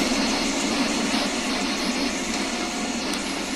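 A video game airplane takes off with a steady, loud engine roar and rushing air, continuous and unbroken throughout, with no talking.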